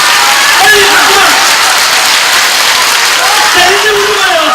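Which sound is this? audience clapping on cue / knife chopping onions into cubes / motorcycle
audience clapping on cue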